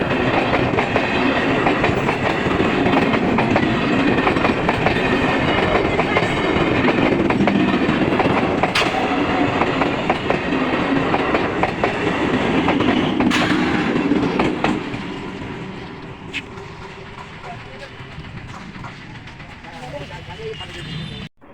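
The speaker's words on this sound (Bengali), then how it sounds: "এদিক দিয়ে যে ট্রেনটা আসছে এটা শিয়ালদা থেকে আসছে" A Sealdah–Krishnanagar passenger train rumbles and clatters loudly through Badkulla station for about fifteen seconds, then fades as it moves away.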